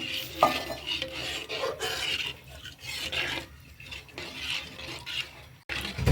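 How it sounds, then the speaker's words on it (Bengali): A spoon scrapes and stirs steadily through a shrimp curry with coconut milk in a metal pot, giving continuous rasping strokes with soft liquid swishes, close and without any voice. "আমি একটু বেশি বেশি করে নাড়াবো, কারণ দুধ দিলে একটু বেশি বেশি করে নাড়াতে হয় যাতে ফেটে না যায়"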